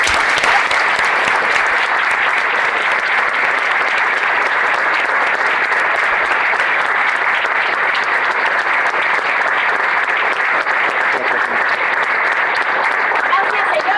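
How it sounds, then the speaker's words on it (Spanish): Sustained applause from a church congregation, loud and dense throughout, steady clapping from many hands with no break. "Damos un aplauso."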